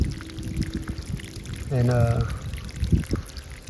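A steady one-inch stream of water pours while a container fills, a continuous rushing flow under a man's speech, with a brief hollow gurgle partway through.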